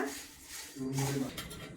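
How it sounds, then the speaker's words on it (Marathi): Puffed rice (murmura) is dry-roasted and stirred in a kadhai over a low flame for jaggery ladoo, giving a close, continuous scraping and rustling of grains and utensil against the pan, with a brief stretch of talk over it. "तर आता हे चांगले कुरकुरीत होईपर्यंत असे भाजून घ्यायचे बारीक गॅसवरच"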